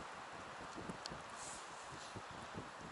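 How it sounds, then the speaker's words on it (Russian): Strong stormy wind in the taiga, a broad continuous rushing roar buffeting steadily with slight gusty fluctuations and no voices. "Ветрище, короче, штормовое."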